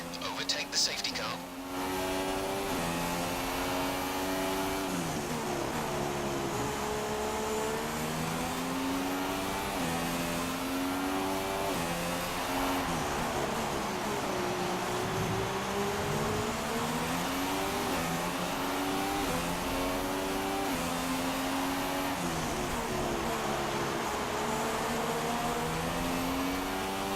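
Formula 1 cars in the F1 2016 video game, running at the Spanish track behind the safety car, give a continuous layered engine drone that rises and falls in pitch across the whole stretch, loud and steady.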